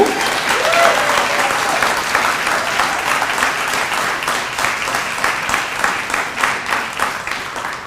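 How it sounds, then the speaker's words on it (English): A big crowd applauds at a graduation celebration, loud and sustained for the whole stretch, with the clapping swelling slightly and then settling into dense, steady pattering. "Please give a round of applause for all of them people"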